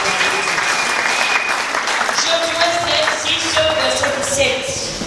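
A church congregation applauds steadily and loudly throughout, dense continuous clapping from a large crowd with voices mixed in.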